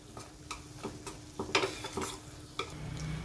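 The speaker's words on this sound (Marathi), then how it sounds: "आता याला पण आपण परतून घेणार आहे।" A spiced potato mixture sautés in a pan, with soft sizzling under repeated scraping and tapping strokes of the spoon, irregular and close, one louder scrape in the middle.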